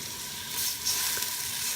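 Pork frying in a pan with chopped tomatoes for a Filipino pochero gives off a steady, close, crackling sizzle that runs without a break.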